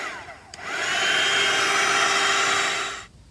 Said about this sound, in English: I will dry that with the slow heat gun